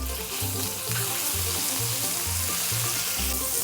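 Pork belly sears in a hot pan after a sugary marinade, giving a steady, close crackling sizzle that carries on without a break and is not covered by any talk.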